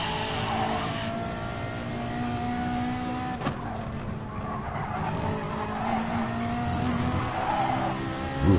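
Two Ferrari race cars running line astern in a racing video game, engines droning at high revs with a brief tire squeal and skid midway, loud and continuous.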